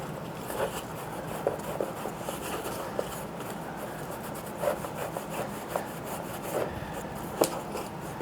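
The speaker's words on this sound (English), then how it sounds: "we'll take a cloth, take this little piece right here, put some wax on it." A cloth rubs wax onto a wooden Waterbury parlour clock case, giving a close, continuous scrubbing swish with small irregular taps and knocks, steady in level, with no talking.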